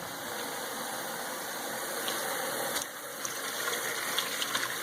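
Steady rushing, splashing warm soapy water fills the whole stretch, with faint sloshing and a few brief bumps as a silk garment is hand-washed in it.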